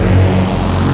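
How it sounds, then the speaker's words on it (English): A raw Virus B synthesizer tone holds a loud, thick, buzzing sustained note for about a second, steady and unaccompanied. "this synth was made using the Virus B right here"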